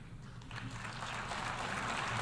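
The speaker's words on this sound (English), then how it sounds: "He's not even getting, like, decent applause" Audience applause in a large hall during a United Nations General Assembly address, a steady, moderate wash of clapping that builds slightly and continues without voices.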